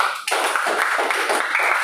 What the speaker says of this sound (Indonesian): Mari tepuk tangan buat dia.